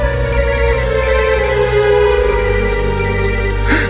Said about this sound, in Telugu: రే నాకు కూడా శివగారి నుండి కాల్ వస్తుందిరా